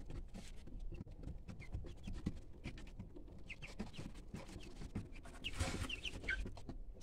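Two-week-old Cornish Cross broiler chicks in a brooder with wood shavings cluck and peep softly, with rustling and scratching in the litter, a faint, busy, continuous flock sound close by.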